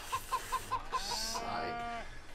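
A cartoon chicken in the farm level of the co-op game Moving Out clucks in a quick run of five or six short, evenly spaced clucks, followed by a drawn-out squawk that fades.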